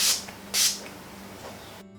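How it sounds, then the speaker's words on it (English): Two short, hissing bursts of makeup setting spray onto a brush, close and fairly loud, separated by a brief pause, with a faint lighter spritz afterward. "now I'm going to spray this setting spray on my brush"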